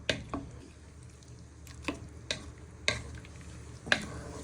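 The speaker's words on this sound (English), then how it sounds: "And then you give this one final stir." Chicken and chorizo soup being stirred in a pan, a few soft, separate scraping and sloshing strokes spaced irregularly over a quiet low simmer, close and faint, with no talking.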